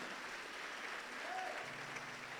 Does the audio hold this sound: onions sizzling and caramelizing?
no